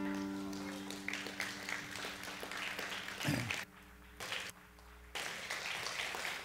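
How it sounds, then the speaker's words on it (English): Church congregation standing and clapping hands in a bright burst of applause, with music and voices underneath, fading into quieter stretches. "let's stand and give the Lord a hand clap offering"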